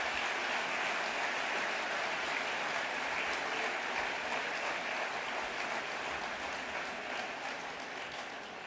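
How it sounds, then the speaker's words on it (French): Applause for graduates at a diploma ceremony: a dense, even crowd of clapping hands that holds steady and eases off slightly at the end, heard from a distance. "je propose qu'on applaudisse nos lauréats."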